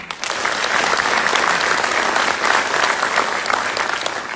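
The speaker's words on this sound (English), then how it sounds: "So please give them a round of applause." Loud, sustained applause from an audience at an army graduation ceremony, dense clapping that swells in quickly and holds steady to the end.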